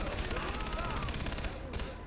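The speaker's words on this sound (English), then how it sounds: "This gun is really cool, by the way. I like how fast it shoots." An assault rifle in the Far Cry 3 video game fires a rapid, continuous burst of gunfire, dense and loud for most of the moment before cutting off near the end.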